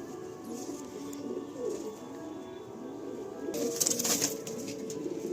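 Pigeons cooing at a bird market during a sale, soft low coos repeating amid a busy, noisy background with a brief burst of brighter chatter and flapping toward the end.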